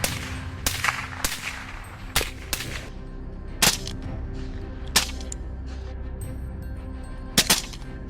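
Sharp gunshots crack out one at a time during a wild boar hunt in a swamp, about eight uneven reports spaced across the stretch, some close and loud, others fainter, over a steady low outdoor rumble.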